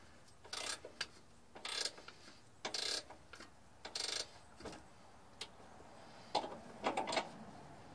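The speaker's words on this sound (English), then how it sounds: "I'm just using a ratchet spanner." A ratchet spanner turns in short bursts while adjusting the torsion bar on a Mitsubishi Delica L400, each burst a quick run of clicking pawl ticks separated by pauses, quiet and close.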